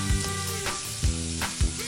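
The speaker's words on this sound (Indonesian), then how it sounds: "Di dapur, Oma sedang masak untuk makan malam." Food sizzles in a grandmother's kitchen in the Avatar World video game, a frying hiss under looping game music with soft rhythmic thumps.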